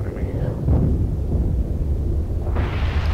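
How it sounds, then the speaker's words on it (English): A mortar or missile strike explosion in the Medal of Honor multiplayer shooter, a heavy low rumbling blast rolling on for a few seconds, loud and close, followed by a sharper burst of noise. "that is a mortar strike or a missile strike"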